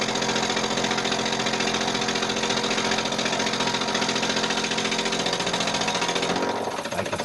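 Mini lathe turning metal with a tipped cutter, a loud, continuous mechanical whir and chatter of the cut at close range that breaks off near the end as the cut stops.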